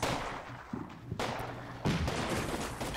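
Italian light machine gun and rifle fire in Combat Mission Fortress Italy, a few loud, sharp bursts and single cracks spaced across a short stretch, punchy and fairly close.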